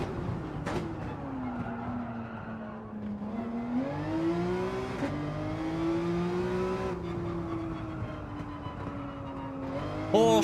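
A Porsche race car in Gran Turismo 7 revs steadily, its engine note rising and falling as it accelerates and shifts through gears, loud and close with a brief tire squeal at the end.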